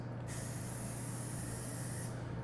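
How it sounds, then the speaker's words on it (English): A paint spray gun hisses in one steady, continuous burst close by, starting just after the beginning and cutting off shortly before the end. "So again, you start spraying off and you finish spraying off."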